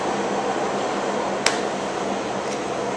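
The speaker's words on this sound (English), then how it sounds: "sorry, that's the train." A train passing close by fills the air with a steady, even rushing roar that holds constant throughout, broken only by one brief sharp click partway through.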